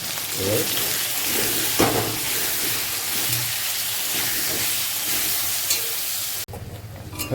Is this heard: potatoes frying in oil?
yes